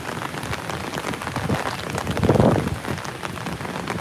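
Heavy rain pours steadily during a lightning weather alert at an outdoor theme park, a dense continuous hiss that swells louder midway, with no voices.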